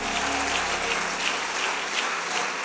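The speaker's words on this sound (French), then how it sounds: "Acclame très fort Jésus" A church congregation applauds loudly, a dense, steady wash of clapping from many hands filling the room without pause.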